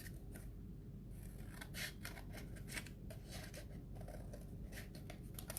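Scissors snip through paper while cutting out a tree shape for a kids' tiny-town craft, a steady run of soft, close rasping cuts with no talking.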